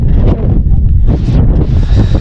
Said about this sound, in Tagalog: Grabe yung hangin lakas.